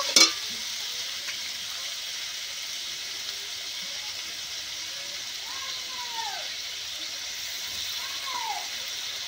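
Ridge gourd and moong dal fry in a pan with a steady, even sizzle throughout, preceded by a brief clatter at the start and a few faint tonal squeaks over the hiss.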